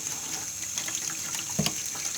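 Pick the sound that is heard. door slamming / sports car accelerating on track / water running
water running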